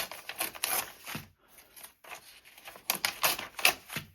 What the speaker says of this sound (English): you're going to rip out 8 to 9 pages